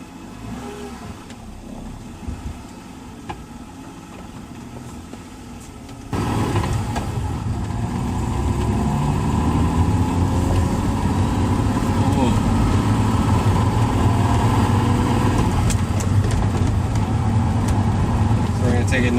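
A BMW E36 with a freshly swapped manual gearbox starts a test drive, its engine idling before the rumble swells into a steady, louder drone as the car pulls away, with people talking.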